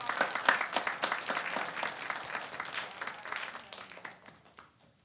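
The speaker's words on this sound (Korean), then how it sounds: "하나님께 영광의 박수 올려드립니다." A church congregation at a Gwangju worship leaders' gathering breaks into sustained applause, many hands clapping densely and steadily before the sound tapers off near the end.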